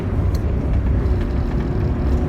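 An Alfa Romeo Sprint Veloce with a 1.5 boxer engine drones steadily while driving, a loud continuous low engine hum with road noise and no clear change in pitch over the short stretch.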